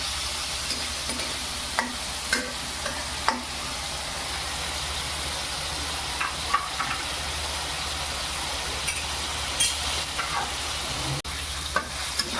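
Paneer cubes frying in a pan for palak paneer: a steady oily sizzle with occasional sharp clicks and scrapes as the cubes are turned, moderately loud and close.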